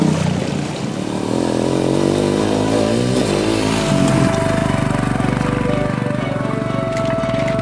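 Royal Enfield Himalayan adventure motorcycle engine running and revving steadily, a loud continuous rumble with rising and falling pitch, close to the microphone and without speech.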